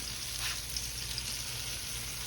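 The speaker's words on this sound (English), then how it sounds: "all you want to do is get a nice golden brown sear on there" Hamburger steaks sear in a skillet, giving a steady, even sizzle of frying that carries on without a break, fairly quiet and close, with no voices.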